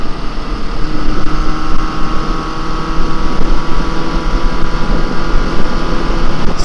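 Honda CB750F cafe racer motorcycle engine under way on the road, a loud continuous drone mixed with heavy wind buffeting on the microphone, steady with slight surges.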